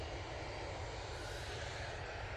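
A Qatar Airways Boeing 787-9 Dreamliner arriving from Doha at Manchester Airport gives a steady, broad jet roar that holds level and fairly distant throughout, with no talk over it.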